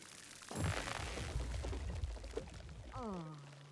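Watering plants in Grow: Song of the Evertree: a burst of splashing, pouring water rises suddenly and runs for about two seconds, then fades as a short chiming game tone sounds.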